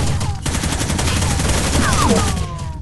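Gunfire in the video game Rainbow Six Vegas 2 comes as a loud, dense burst of rapid automatic shots filling the whole moment, close and sustained, with little else audible.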